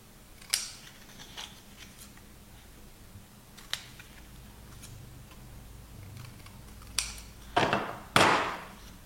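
Scissors snip paper at the corners while a photo album is made: a few crisp, scattered cuts close by, then a couple of louder rustling snips at the end, with no talking.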